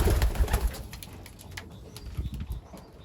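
Pigeons coo softly at close range, young and old birds together while feeding and flying. Low murmuring calls mix with faint rustles and light wing flutters, loudest at the start and then fading to quieter bursts.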